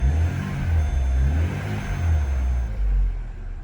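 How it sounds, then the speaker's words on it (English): A Vauxhall Corsa D SXi engine runs close by with a deep, rumbling idle, rising in a few gentle revs, being a cold engine on a salvage rebuild. "The engine sounds really, really well. So you can see it running there."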